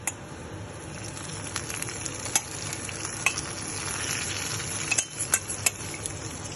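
Boiling-hot tempering poured into a salmon fish curry, giving a close, continuous crackling sizzle with scattered sharp pops and light clinks, no voices.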